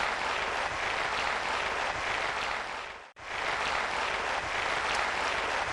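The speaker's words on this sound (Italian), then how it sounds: "Valentino Pizzuto, applauso al nostro scienziato." A TV show studio audience applauds a scientist guest, dense sustained clapping with a momentary cut in the middle before the applause resumes at the same level.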